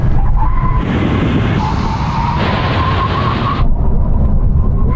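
A Porsche 911 Turbo skids hard under braking during a straight-line brake test, a loud, rough tire and road roar holding for several seconds with a rising screech before it cuts off.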